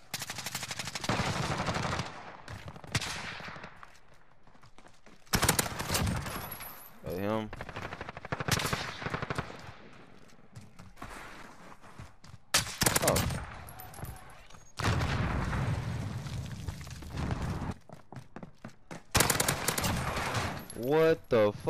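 PP19 Bizon submachine gun from Modern Warfare firing in several loud, sustained automatic bursts separated by brief pauses, with someone talking in between.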